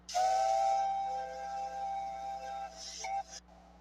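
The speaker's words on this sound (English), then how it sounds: "Here's his whistle." A loud, steady steam locomotive whistle blows for about three seconds with a bright, breathy tone, then cuts off with a brief final toot.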